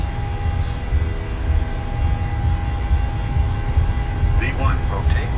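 A Boeing 737-700 in a PMDG flight simulator on its takeoff roll, a steady loud broadband engine roar with runway rumble, continuous and unchanging throughout, with brief faint voice fragments near the end.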